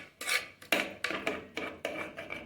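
A utensil scrapes around a pot while stirring rice and coconut payasam sweetened with jaggery, giving about seven distinct rhythmic strokes that sound close and clear, with no talking.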